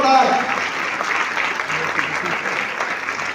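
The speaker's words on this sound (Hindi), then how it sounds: "मैं जोरदार तालियां चाहूंगा दोस्तों आप सभी से जोरदार" Loud, dense applause from an audience at a team success celebration, steady and sustained from start to finish, close and without voices.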